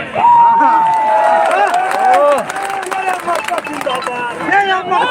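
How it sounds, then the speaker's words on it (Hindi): Large crowd at a political rally on a 45-degree day, loud voices and babble with scattered shouts and clapping, a speaker's voice close over the hubbub. "आज 45 डिग्री के तापमान में जो भीड़ इकट्ठा हुई है, ये बदलाव का संकेत दे रही है।"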